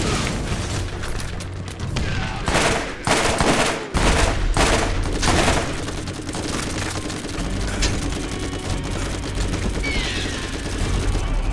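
Gunfire in the Borderlands video game with a Tediore gun, a dense, continuous rattle of rapid shots and booms that stays loud throughout, with short breaks in the volleys near the start.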